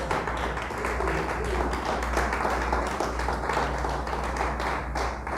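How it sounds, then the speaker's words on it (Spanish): A church congregation applauding to God, a dense, continuous wash of many hands clapping together, steady and moderately loud throughout, with a low hum underneath and no voices. "Dele fuerte el aplauso a Dios, por favor."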